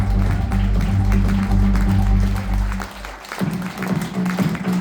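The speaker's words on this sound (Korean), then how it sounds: "큰 박수 부탁드립니다." An audience applauds at a dress gala show, a dense, steady patter of many hands that thins briefly near the end before picking back up.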